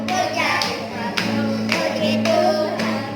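A church congregation claps hands in a steady rhythm, roughly every half second, along with worship music that carries on beneath the claps.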